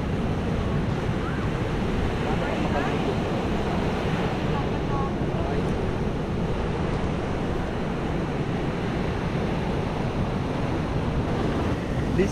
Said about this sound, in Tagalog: Pang mga nagsisurf na lang tong alon na to.